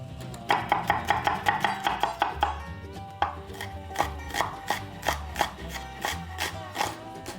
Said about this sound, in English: We're going to chop those the same way that we did the garlic.